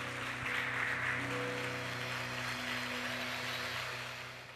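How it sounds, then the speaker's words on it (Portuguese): Congregation clapping during a church worship service, a steady broadband wash of applause with a sustained organ or keyboard tone underneath, fading slightly toward the end. "Bata palmas ao Senhor, aleluia."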